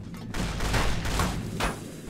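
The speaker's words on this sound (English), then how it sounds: "Who are they shooting at?" Gunfire in Fallout: New Vegas: a dense fusillade of overlapping shots sustained for about two seconds at moderate distance, with no speech over it.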